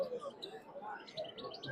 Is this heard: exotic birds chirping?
yes